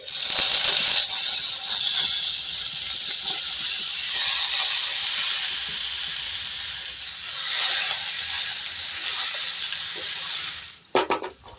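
Yam and taro pieces dropped into hot oil tempered with dried red chillies and black and white mustard seeds, giving a loud, continuous bright sizzle that slowly eases, with a few clinks near the end.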